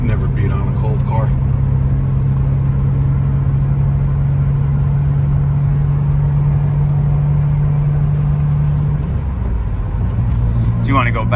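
A 1999 BMW Z3 M Coupe engine idles steadily with a low, even rumble from close by, holding a constant drone before the pitch shifts near the end as it is blipped, with a voice talking briefly over it.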